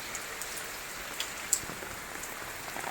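Heavy rain pours steadily at a house in Nellore during a downpour, a dense continuous hiss of drops on surfaces with a few sharper splashes and drips standing out close by.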